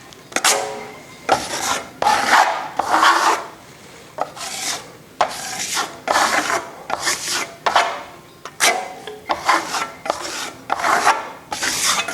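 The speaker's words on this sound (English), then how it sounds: "when you're troweling it, you know, get some of these nice holes and just make it look nice and distressed" Trowel spreading plaster across a wall for a distressed Tuscan faux finish, giving repeated close rasping scrapes in even strokes about a second apart, separated by brief pauses, with no talk.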